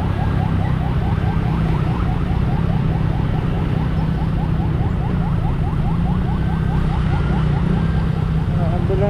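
An ambulance siren wails loud and close in a rapid, steady warble that repeats without a break, with a constant roar of traffic underneath.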